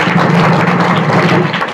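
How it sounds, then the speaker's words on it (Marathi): Loud, steady applause from a crowd at a Marathi kirtan performance, dense clapping sustained throughout without a break. "जोरदार टाळ्या होत्या"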